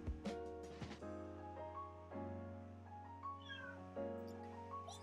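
A cat meows a few times, short and fairly quiet, over a steady background of synthesized game music at a soft level.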